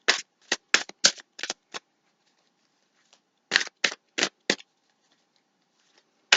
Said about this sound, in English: I feel like I'm going to shuffle,